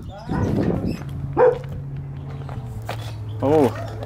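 A couple of short dog barks or yips, including from a chihuahua, ring out at moments amid people talking nearby in the desert, with faint rustling and movement between them.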